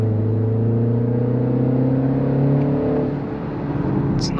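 A Mini Countryman S ALL4 with a 2.0-litre turbo engine accelerates with a steady, even hum heard from inside the cabin. The engine tone eases slightly near the end.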